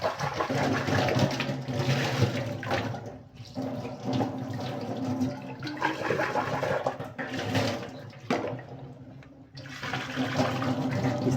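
An RO water purifier's membrane housing being rinsed under running water, a steady loud gush with splashing and brief dips as the housing is moved, with no talking.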